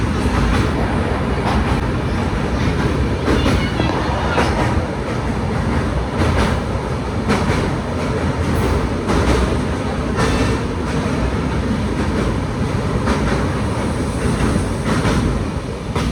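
A train runs toward Ahmedabad Junction with a loud, constant rumble and rhythmic clickety-clack of wheels over rail joints, heard from on board and sustained without a break.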